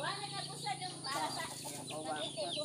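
Black wild labuyo chickens cluck and chatter close by in a continuous, busy stream, with some wing flutter and voices talking over them.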